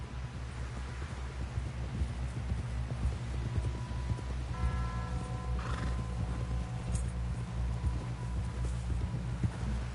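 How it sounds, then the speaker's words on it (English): Rapid clip-clop of galloping hooves in the video game Red Dead Redemption II drums continuously up close, with a horse whinnying partway through over a low rumbling background. "Someone help John down off this horse"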